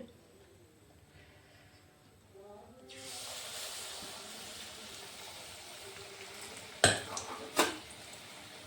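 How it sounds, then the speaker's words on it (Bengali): Kalai dal malpua batter dropped into hot oil, setting off a broad steady sizzle that begins abruptly partway through and continues, with two sharp utensil knocks near the end. "তেল গরম হয়ে গেছে, আমি এখন একটা দিয়ে দেখছি কিরকম হবে।"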